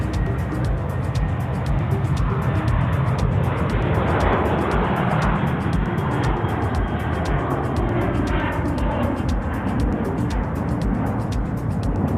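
Jetstar flight 501, a jet airliner departing Sydney Airport for Melbourne, gives a steady, loud broadband engine roar that swells and holds throughout, with no talk over it.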